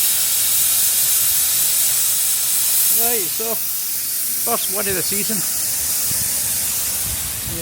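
A steady broadband hiss of steam venting from a steam locomotive at the Bo'ness & Kinneil Railway in Scotland runs throughout, with someone speaking briefly partway through.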